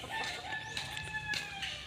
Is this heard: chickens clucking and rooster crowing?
yes